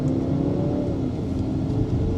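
A BMW X3 in sport mode pulling in second gear, with a steady engine drone and a tone that rises and then eases off, heard from the cabin without any speech.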